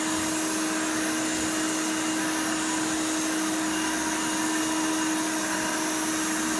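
A Hoover Elite 350 upright vacuum runs with its upholstery tool attached. A steady, loud motor roar with a constant whine continues without pause, up close and with no talking.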